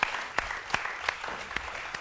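A small audience claps for the singer, faint and fairly distant, with a few sharper claps standing out at a steady rhythm over a soft patter.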